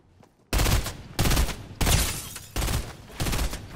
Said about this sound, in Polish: We mnie chyba strzela, co?